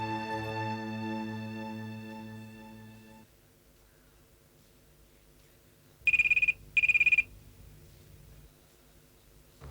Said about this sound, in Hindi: अच्छा मैं ही फोन करती हूँ